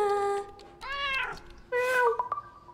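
A cat meowing, three distinct drawn-out meows with rising and falling pitch, close and clear, separated by short pauses in a quiet room.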